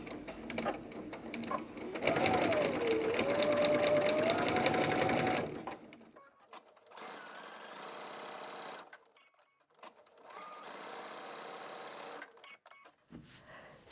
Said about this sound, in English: I'm going to take this to the machine and I'm just going to do a little tacking stitch